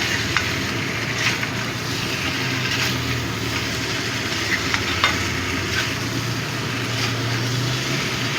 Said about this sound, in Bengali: এবার আমি চিংড়ি মাছটা দিয়ে দিলাম। চিংড়ি মাছটা দিয়েও একটু মিশিয়ে নিচ্ছি।